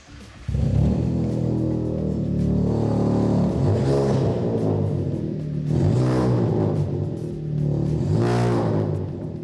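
A loud engine of a modified, tuned Maruti Swift car revs hard in repeated surges, rising and falling roughly three times over a steady deep rumble, close by.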